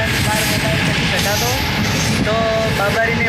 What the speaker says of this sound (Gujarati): તો આજે આપણે ટ્રેનની અંદર બેસી ગયા છીએ